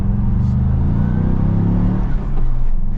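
A 2023 Ford Bronco Badlands with a manual transmission accelerates, its engine a loud, close, low droning rumble that builds steadily, dips briefly near the end and then returns.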